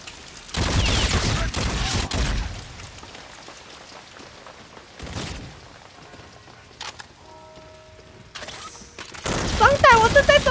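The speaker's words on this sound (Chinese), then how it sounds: "装弹，我正在装弹。" Guns being reloaded in Call of Duty: Infinite Warfare, a city chase match, with a few crisp metallic clicks and ratcheting clacks between bursts of broadband game noise and distant shots.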